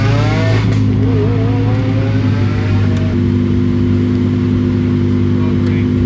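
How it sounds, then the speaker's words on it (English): Supercars climb the Steeleford hill climb course, a loud, close engine drone holding steady pitch with a brief rising rev early on, continuous over several seconds. "All the cars are going back up the hill now"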